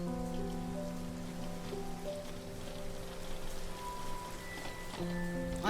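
Steady rain pours throughout a night scene in a Thai drama, a dense even hiss on surfaces, with music or tonal sound layered beneath and no speech.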